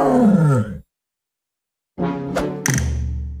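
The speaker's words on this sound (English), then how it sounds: "tiger." A tiger roars twice in quick succession, loud and close, the deep rumbling bursts following a brief silence after a clear roaring call at the start.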